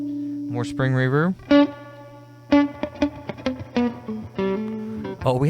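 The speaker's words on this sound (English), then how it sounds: "More spring reverb." Electric guitar through a fuzz pedal with spring reverb, playing distorted, sustained chords and short stabs with a wet, splashy tail between notes; close and loud, with no talking.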